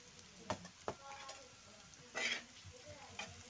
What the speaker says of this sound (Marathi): तर बघा आता मस्त हलवून घेते.